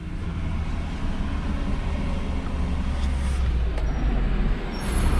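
Steady roar of expressway traffic with cars and buses on the northbound lanes toward Manila, continuous and fairly loud with wind-like rumble, a few brief higher whines from passing vehicles, no talking.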